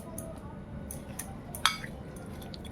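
Prawns being mixed with salt and chilli powder in a bowl, with soft squishy handling, light clinks of bowl and utensil, and one sharper chink partway through.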